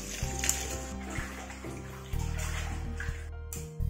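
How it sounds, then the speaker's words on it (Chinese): Running water splashes steadily while green beans are washed by hand in a kitchen, with brief handling sounds and a fuller gush partway through, close and moderately loud. "把豆角洗一下"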